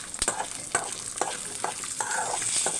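Three cloves of garlic fry in hot oil, a steady close sizzle broken by a few sharp scrapes and clinks from stirring, with no talk.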